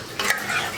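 Water poured into masala frying in a pan, a brief burst of sizzling and bubbling with light stirring, close and fairly quiet, without talk.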